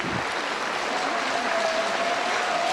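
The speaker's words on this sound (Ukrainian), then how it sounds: "Це ваші аплодисменти." A concert audience applauds after a Ukrainian song, a broad continuous wash of clapping held at an even level throughout.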